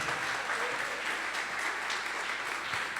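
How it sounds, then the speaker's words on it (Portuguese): A church congregation at a Sunday service bursts into sustained, strong applause, a thick wash of clapping filling the room without pause. "Vamos aplaudir Jesus bem forte."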